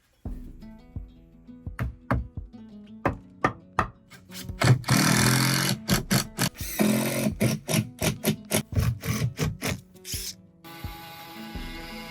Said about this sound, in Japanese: はい、インパクトと75のビス。